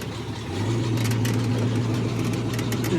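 A 1950 Chevrolet one-ton flatbed truck engine idles steadily up close, a low continuous rumble that settles in after a brief quieter start and holds even and unbroken with no talking.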